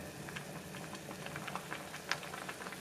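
Grits simmering gently in a pot on the stove, giving soft, scattered bubbling pops and faint ticks over a low, quiet background hiss.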